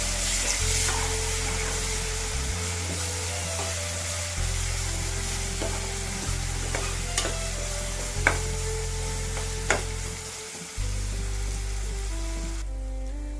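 Ginger garlic paste and turmeric frying in a pan, a steady close sizzle with occasional stirring scrapes and clicks, continuous and without voices.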